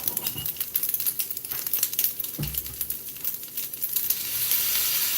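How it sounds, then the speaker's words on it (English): Salmon on the grill sizzles with a dense, crackling hiss, steady and fairly faint, broken by a few soft handling bumps. "Now y'all hear the sizzle"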